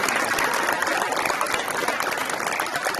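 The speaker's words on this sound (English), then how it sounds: "one more round of applause for Maddox Martin in the Walden State" A crowd at a high school signing day gives a steady round of applause, loud and continuous, with voices mixed in.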